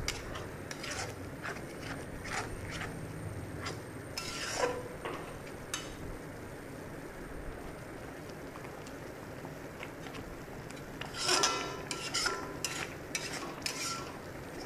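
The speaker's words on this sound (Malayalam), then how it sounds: "നന്നായിട്ട് ഇളക്കിക്കൊണ്ടിരിക്കുക." A spoon stirs pineapple avalose unda mixture in a pan, giving a continuous gritty scraping and rustling with occasional sharper clinks of the utensil against the metal.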